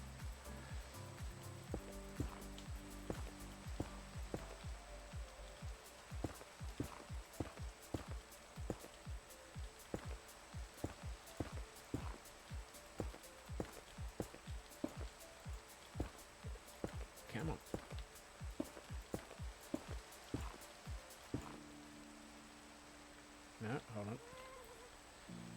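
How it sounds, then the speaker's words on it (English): Rain falls in Minecraft: faint, scattered crackling ticks and patters at irregular intervals throughout, quiet and steady, with a low background hum and a brief tonal sound near the end. "It doesn't help that it's raining"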